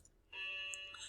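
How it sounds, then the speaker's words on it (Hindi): An electronic alarm tone starts abruptly and sounds steadily for the rest of the short moment, moderately loud against a quiet background. "आप अलार्म घड़ी का सुन सकते हैं।"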